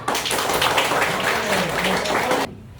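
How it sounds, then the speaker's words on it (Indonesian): A classroom group claps hands together for a discussion team during a computational-thinking lesson, a dense burst of steady clapping lasting over two seconds before stopping abruptly. "Coba tepuk tangan dulu sama kelompok"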